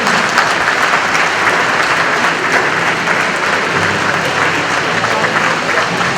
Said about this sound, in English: Round of applause as we begin the report deliberation.